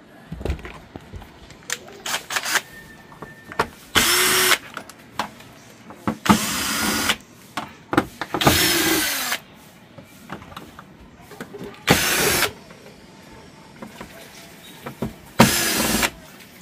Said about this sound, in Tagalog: Baklas muna tayo ng mga screw.